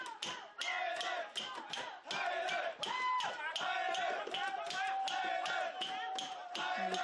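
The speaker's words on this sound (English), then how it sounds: "the Thai crowd showing their support for that goal, showing their noise" Thai fans at an under-20 women's football tournament roar and cheer after a goal, a sustained crowd noise with shouting and chanting throughout.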